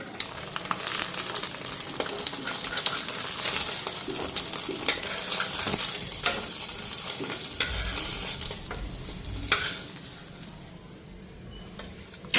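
A spice paste of ginger, garlic, onion, cumin and coriander powder sizzles as it is fried and stirred in a wok, a steady hiss with intermittent spoon scrapes, close, easing slightly near the end.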